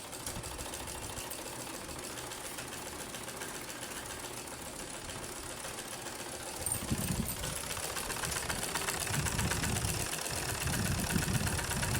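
A sewing machine running a simple straight stitch, giving a steady close mechanical whir that grows louder and busier in the second half.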